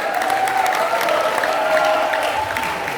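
A Christmas church congregation claps together in a sustained round of applause, dense and roomy, with crowd noise and faint voices or tones running under it.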